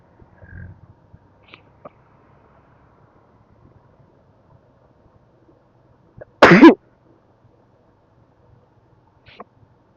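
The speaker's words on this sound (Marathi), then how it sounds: "आता ही दुसऱ्यांदा मला शिंक आलेली आहे." A single sharp, close sneeze bursts out on a cold, quiet early morning on a road near a college in Pune during a bike ride, with faint scattered noises around it and near silence before and after.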